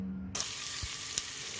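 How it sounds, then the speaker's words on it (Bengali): Onion, garlic, cardamom and cinnamon frying in mustard oil in a pressure cooker for pulao khichuri, a steady close sizzle after a brief quiet start, with a couple of soft stirring knocks. "তেলের মধ্যে পেঁয়াজ রসুন সব কিছু এলাচ দারুচিনি ভালো করে ভেজে নিচ্ছি"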